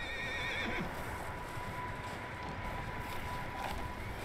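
A horse in the video game Red Dead Redemption 2 whinnies briefly at the start over a steady rumble, followed by faint hoof clip-clops and background noise.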